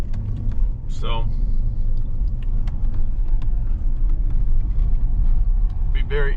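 A rental truck prerunning an off-road desert course over whoop sections, a loud continuous rumble of engine and suspension with thumps and rattles, and a couple of short squeaks.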